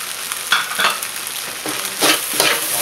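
Tomato and onion for seafood fried rice fry in a hot pan, a loud close sizzle broken by several quick scraping stirs.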